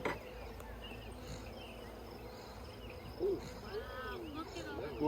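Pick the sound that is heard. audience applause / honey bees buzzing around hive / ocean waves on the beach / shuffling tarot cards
honey bees buzzing around hive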